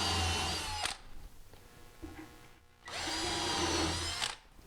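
A power drill bores pilot and countersink holes into a melamine kitchen cabinet in two loud whirring bursts, each about a second long, separated by a quieter pause with faint handling noise.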